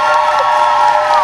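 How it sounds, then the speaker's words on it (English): A middle school gym crowd breaks into applause and cheering for a coach, a dense wash of clapping and whoops filling a reverberant hall for a brief burst. "Coach Davis, can we get a round of applause for Coach Davis?"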